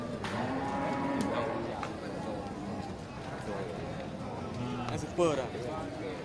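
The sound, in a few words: Simmental cattle cow at livestock market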